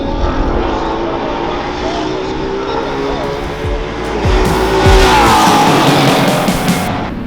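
A race car with a loud engine roars past on track during a 2023 motorsport season pass, rising to a peak near the middle and holding a continuous howl, with voices faintly underneath.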